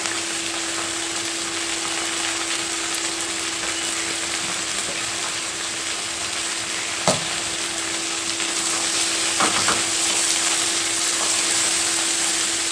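Food sizzles steadily in a hot pan after salt and turmeric go in, a constant close frying hiss with a faint hum beneath and a single sharp clatter midway.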